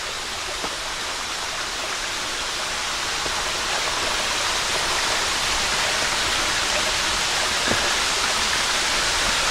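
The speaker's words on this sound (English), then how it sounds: "just up there is our waterfall" Waterfall at Jacoby Falls in Loyalsock State Forest, heard as a steady, loud broadband rush of falling water that holds constant throughout with no voices.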